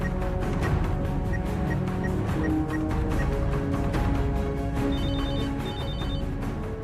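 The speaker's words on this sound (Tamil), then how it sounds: "சந்தோஷ் இவ எதுக்கு இப்ப நமக்கு ஃபோன் பண்றா?" Telephone ringing indoors in a Tamil TV drama scene, a repeated electronic bell trill pulsing steadily and fairly loud for several seconds, with no one speaking.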